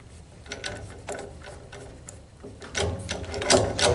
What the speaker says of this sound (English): So you can see I can still move this a little bit as I run the nut down.